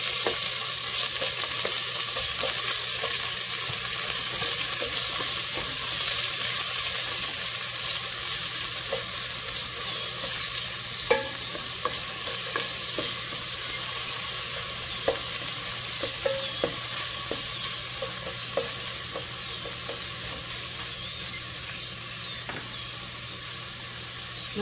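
Chopped onions sauté in hot oil for a Filipino mung bean stew, a steady loud sizzle with occasional stirring scrapes and clicks throughout, no talking.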